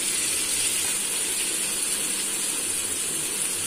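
Two finely chopped large onions frying in melted butter for dhal makhani, a steady bright hiss and sizzle without pauses, heard close and alone with no talking.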